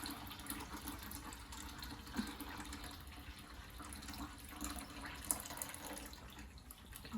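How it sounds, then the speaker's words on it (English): Lukewarm water pouring into a baby bath, a soft continuous splashing rush heard faintly and steadily throughout with no voices. "So you're just gonna pour it right in with a little lukewarm water."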